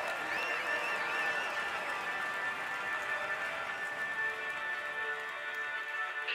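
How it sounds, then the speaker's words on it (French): Sustained applause from a large roadside crowd at a Tour de France stage in Brittany, steady and dense throughout, with shrill whistles and cheers ringing out over the clapping. "vous pouvez l'applaudir bien fort"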